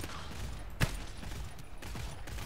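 A single sharp gunshot from the GTFO shooter game cracks out clearly once, followed by a couple of fainter shots, over a low murky background with no talk.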